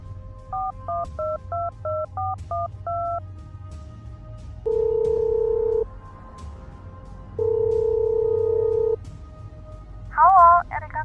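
A cartoon telephone call: a quick run of keypad dialing tones, then two long ringback tones separated by a pause, ending in a brief warbling chirp.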